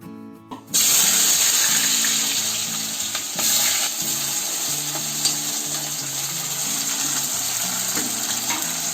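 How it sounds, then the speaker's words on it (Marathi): Potatoes drop into hot oil in a wok and burst into a loud, steady sizzle that carries on without pause, with faint clinks in the background. "बटाटे इकडे फ्राय करायला ठेवले आहे."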